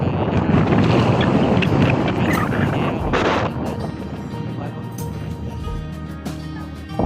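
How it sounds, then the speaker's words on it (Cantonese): Strong wind on a mountain at Tateyama Kurobe, a loud continuous roar with heavy gusty buffeting of the microphone that eases somewhat partway through. "好大風啊！"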